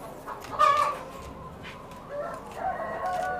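Year-old laying hens in a poultry barn give a few short, bright clucks and calls over a steady low hum of the barn, fairly close and with no talking.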